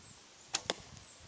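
Two quick, faint snaps close together, a JD Berry Morningstar longbow string releasing and thudding with no silencers fitted, in an otherwise quiet setting.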